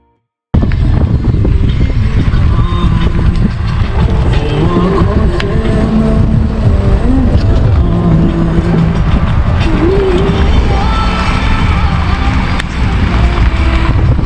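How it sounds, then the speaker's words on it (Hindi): Motorbikes travel the rough road from Kathmandu to Pokhara, with a loud, continuous drone of engines and traffic heard close up, partly masking a voice speaking in the background. "फिर कुछ बाइकर्स निकलते हुए, तो इनको मैंने शूट कर लिया।"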